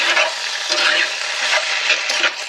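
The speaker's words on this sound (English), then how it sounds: "That's frying up nicely. I'm going to add this in and fry this on the bottom of the pan." Food sizzles and fries steadily in a pan with lentils, coriander and water nearby, a loud, dense crackle with occasional stirring scrapes, close up and continuous, with no talking.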